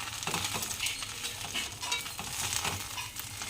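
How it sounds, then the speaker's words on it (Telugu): Dry moringa leaf powder being stirred slowly in a hot pan while dry-roasting for a spice powder, giving a steady soft scraping and rustling with faint sizzle, close and continuous. "మనం నిదానంగా కలిపి"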